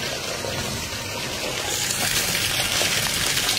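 Water rushing steadily through pipes during a water filter backwash, a continuous loud hiss and gush that grows slightly stronger toward the end, without speech.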